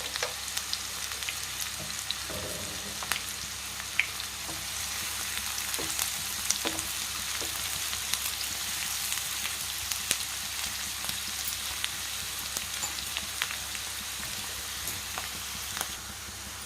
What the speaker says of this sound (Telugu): ఉల్లిపాయలు బాగా ఎర్రగా వేగుతూ ఉంటాయండి.